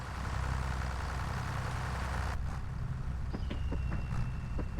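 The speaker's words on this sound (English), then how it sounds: "Okay, now I can reverse the tractor." A tractor engine in a logging simulation game drones steadily in reverse, a low continuous rumble with a brief change midway and faint clicks and a thin whine near the end.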